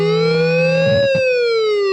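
A guitar pedal imitates an ambulance siren with a loud, sustained electronic wail that rises smoothly and then falls, thick with harmonics, alone and close.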